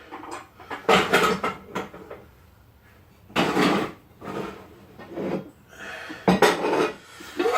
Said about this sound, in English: we're going to get a pot for our chili.